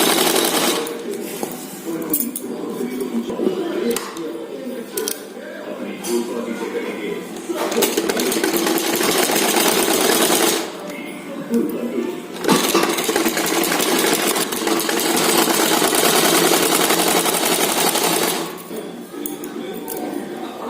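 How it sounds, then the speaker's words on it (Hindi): A sewing machine stitching a double katori blouse with lining, running in long rapid whirring bursts with short pauses between runs, close and steady. "तो इसे हमें यहाँ से सिलाई करने हैं। इसे इस तरह से सिलते जाएंगे।"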